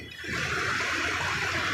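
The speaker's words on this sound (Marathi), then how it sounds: "बघा लाटा येत बघा लाटा आल्या" A steady rush of water surges and washes across a street in Sector 18, Turbhe, Navi Mumbai, building quickly and holding as a loud, continuous gushing wash.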